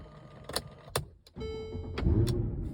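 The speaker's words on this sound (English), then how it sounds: "Let's just make sure it's starting the car." A 2013 Mercedes-Benz C63 AMG engine cranks and catches after a few clicks and rattles, then settles into a steady idle close by.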